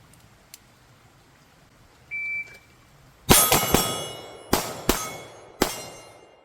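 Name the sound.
pistol shots ringing steel targets in shooting drill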